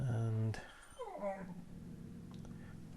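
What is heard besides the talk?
dog growling at her reflection in the TV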